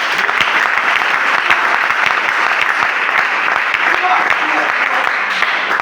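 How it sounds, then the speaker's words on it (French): A church congregation claps steadily and loudly throughout, a dense, continuous wash of applause filling the room, with a voice faintly audible beneath it. "Acclamez le Seigneur."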